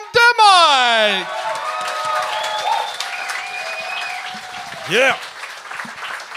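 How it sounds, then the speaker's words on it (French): A comedy club audience applauds and cheers comedian Sam Demoy onto the stage. Loud voices and a whoop ring out at the start, then clapping carries on under shouts, with another excited voice near the end. "un tonnerre d'applaudissements pour Sam"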